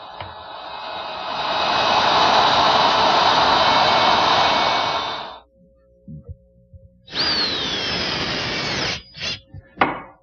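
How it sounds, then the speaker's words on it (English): A router fitted with a 1/4 inch round nose bit cuts a groove in wood, a loud close high whine for several seconds, then falling silent before spinning up again in shorter bursts. "I have a 1/4 inch round nose bit in my router, and I'll just plow out enough material for that barrel."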